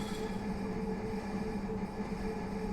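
Rumbling electric train in Train Simulator Classic on the London Victoria to Tonbridge run, with a steady low drone and constant mechanical hum from a faulty-sounding train, no distinct hiss bursts standing out.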